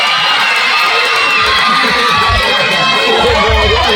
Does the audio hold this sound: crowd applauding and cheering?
yes